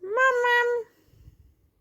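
A person imitates a cat with a single drawn-out, nasal meow, followed by soft low rustling.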